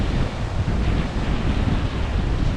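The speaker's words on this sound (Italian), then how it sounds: "in mezzo al mare del nord, un freddo pazzesco." Loud, steady wind and crashing surf out on the cold North Sea, a dense roar with heavy wind buffeting the microphone and no voices.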